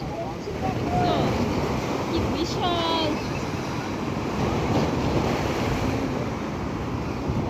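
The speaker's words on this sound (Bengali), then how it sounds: "আজকে ঢেউ পাইলাম" Sea waves roll and wash in continuously at Jeddah beach, a loud broad surf roar mixed with wind buffeting the microphone, heard from close by with faint voices in the background.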